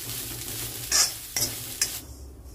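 Mutton fries with turmeric powder in oil in a pan for a dry Mangalore sukka, with a soft steady sizzle and a few sharp scraping stirs.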